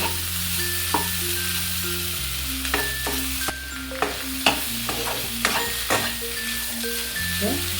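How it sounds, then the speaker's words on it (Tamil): Ivy gourd (kovakkai) stir-fries in a pan, giving a steady sizzle broken by repeated clattering stirs of a spatula at irregular intervals. The sounds are close and clear, with no one speaking. "இன்னும் கொஞ்சம் நல்லா வதங்கி கொஞ்சம் சுண்டணுங்க"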